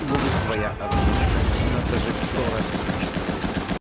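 Dense bursts of video game gunfire and shots into a building crackle and boom in rapid succession, loud and chaotic, with shouting voices mixed in.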